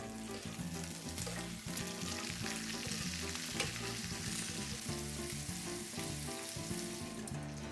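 Schnitzel pieces frying in a pan and being turned, a dense constant sizzle with occasional stirring and shifting sounds, loud and close, no speech.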